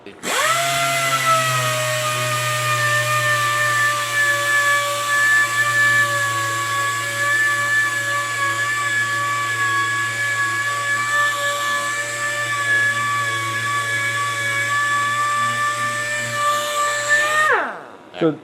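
A power sander whines steadily at a fairly low speed for about seventeen seconds, then spins down and stops.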